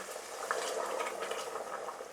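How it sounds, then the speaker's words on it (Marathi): A short stretch of chicken curry boiling after hot water is added, a dense, steady bubbling hiss with no voices. "गरम पाणी ओतलं की बघा हे असं अजून उकळतं"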